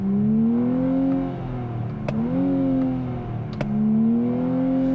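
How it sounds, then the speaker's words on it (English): A 2023 Nissan Z with the 3-liter twin-turbo V6 idles and is revved, giving a smooth mechanical engine tone that rises and falls in a few short blips with faint clicks, heard alone without talk. "the Z just has a very mechanical noise, a very just sweet sounding V6 noise"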